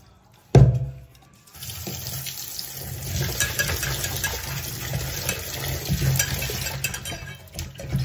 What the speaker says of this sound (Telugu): ఇవైతే నీట్గా కడిగేసుకుందాము